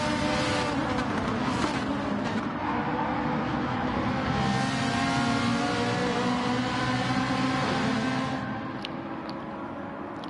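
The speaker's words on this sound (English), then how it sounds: "And he is right in the slipstream of Brisbane at the moment." Race car engines roar steadily in a sim racing video game league race, a dense continuous engine drone that eases off slightly near the end, with no speech.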